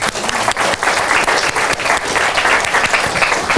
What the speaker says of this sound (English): I want everybody else to give you a round of applause.